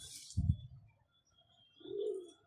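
Pigeon from a prized breeding pair, likely the male, gives a low, muffled coo near the start and a second softer, longer coo about a second and a half later, with quiet gaps between.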